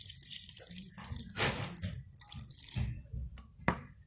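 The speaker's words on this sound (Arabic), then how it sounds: "دي بقى عندي هنا معلقتين من العسل الاسود، هحط عليهم شويه من الميه" Water from a tap runs and drips onto two spoonfuls of black honey (molasses) in a home kitchen, a soft splashing trickle in short bursts with a few sharper drops, close and moderately quiet, with no talking.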